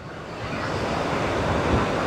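Steady roar of sea surf washing onto the beach at Jomtien, Pattaya, with mild waves and gusts of wind buffeting the microphone, a continuous broadband wash with no voices.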